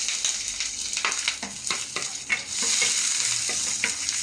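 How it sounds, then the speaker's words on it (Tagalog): Garlic and onion sauté in oil in a pan over low heat, a steady close sizzle broken by repeated scraping stirs from a utensil. "Lagay tayo ng mantika. Lagay natin tong bawang. Sabayan natin ang sibuyas."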